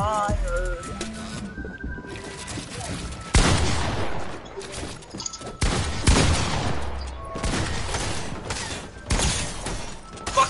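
Fortnite gunfire on a live PS4 broadcast: repeated loud bursts of shots and volleys that crack through a dense mix of game sounds for about ten seconds, with several sharp peaks.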